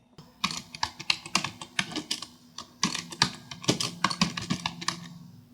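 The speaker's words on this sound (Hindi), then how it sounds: "तो मैंने नेम फील्ड में जवाहर मार्ग गोडाउन टाइप कर दिया है।" Rapid typing on a computer keyboard while entering a godown name into a name field in Tally accounting software, with a quick uneven burst of close, crisp key clicks, pausing briefly midway before the final strokes.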